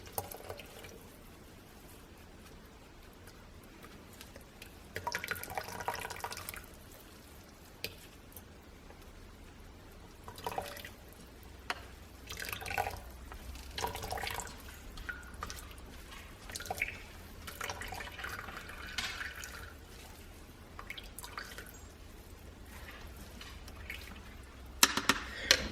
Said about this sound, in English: I just take the cheesecloth, fold it up, and just try to squish out all the juice.